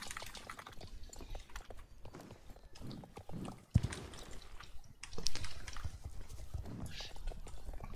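Horse hooves clip-clop rhythmically in the online horse-riding game Star Stable, moderately close, mixed with game ambience and a brief thud, while a player talks over it.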